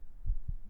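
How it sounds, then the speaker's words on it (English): Close, muffled heartbeat of a person sleeping against someone's chest: two soft low thumps about a fifth of a second apart over quiet background hiss. "I can feel your heartbeat"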